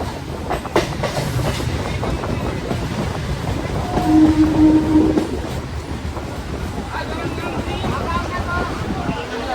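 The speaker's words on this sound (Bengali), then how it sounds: "ফাইনালি আমাদের ট্রেন এসে পৌঁছলো বেলডাঙ্গা স্টেশন" A train pulls into Beldanga station with steady rumbling and clattering of the carriages, a brief tonal squeal midway, and wind buffeting the microphone, while people's voices are faintly heard.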